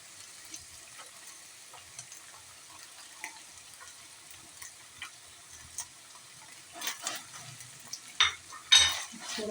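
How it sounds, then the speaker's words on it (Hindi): Minced meat fries in a pan with garlic, ginger and green chili, giving a faint steady sizzle with scattered stirring scrapes and louder utensil clinks toward the end. "अब हमने इसमें ना लहसुन अदरक और हरी मिर्च डालना है।"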